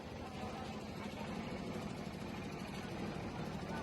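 A tractor engine idles steadily while carrying a Ganesh idol through a Telangana village for immersion, producing a continuous close rumble with a constant vibrating drone throughout.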